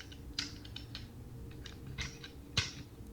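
Small plastic clicks and snaps as the wheels are folded out on a Transformers Age of the Primes Prima Prime figure, quiet and close, with a sharper click near the end.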